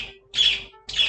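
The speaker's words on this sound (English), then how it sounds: "Noisy birds today." Two loud, harsh squawks from birds outdoors, each lasting about a quarter second and separated by a short pause, with no one talking.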